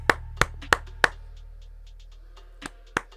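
A few separate hand claps ring out in a small group setting, four quick evenly spaced ones followed after a pause by two more, sharp and fairly close over a low steady hum.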